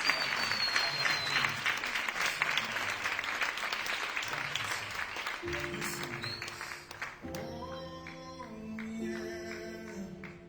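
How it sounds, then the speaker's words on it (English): An audience at Asot Michael's manifesto launch claps in a long, steady round of applause that fills most of the moment, giving way near the end to sustained musical tones. "Let's give him a huge round of applause as he prepares to share his manifesto with us."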